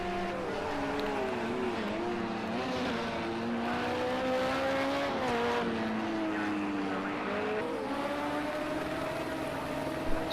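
LMP2 prototype race cars in a sim racing game drone past with sustained engine whines that rise and fall through gear changes, loud and continuous, with no talk.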